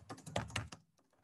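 Quick, close clicking of keys on a computer keyboard, a short burst of about half a dozen keystrokes followed by a couple of faint taps, with no talking.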